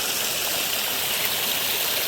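Water gushes from a pipe connection on a farm as containers fill, a loud, close, continuous rushing flow with no voices.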